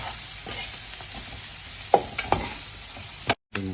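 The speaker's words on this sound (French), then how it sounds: "Et maintenant, je vais remuer." Jambalaya of chicken fillet, chorizo and shrimp being stirred in a pan with crushed cloves, a soft steady sizzle broken by a few sharp spoon knocks and scrapes, close, with no talking.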